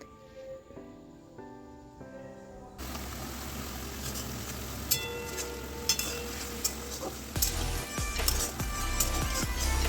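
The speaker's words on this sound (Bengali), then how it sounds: "এরপর পেঁয়াজের রঙটা সোনালি না হওয়া পর্যন্ত পেঁয়াজটাকে ভালো করে কষাতে হবে" Onions and ginger paste fry in a pan for a jackfruit and prawn curry, a steady close hissing sizzle that starts abruptly after a few seconds of soft tonal music, with scraping stirs and sharper crackles toward the end.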